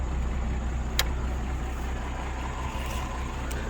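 A 1937 Chevrolet Sport Coupe engine runs in a steady, low idling rumble, close by and unchanging for the few seconds, with no voices over it.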